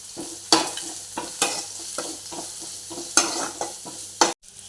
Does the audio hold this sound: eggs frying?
yes